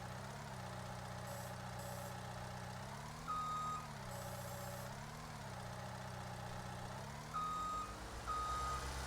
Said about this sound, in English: That backup beeper will get a little annoying